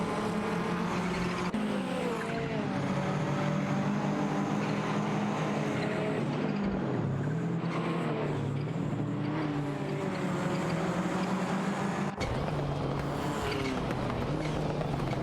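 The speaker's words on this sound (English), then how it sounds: "The Porsche 944 Turbo and the Toyota Celica are having a heated battle for the" A Porsche 944 Turbo and a Toyota Celica race side by side in a racing video game, their engines droning loudly and continuously with rising and falling revs and gear shifts throughout.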